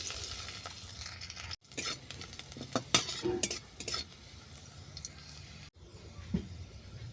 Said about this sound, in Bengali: ভাজা তেলের মধ্যে দিলাম রসুন কুচি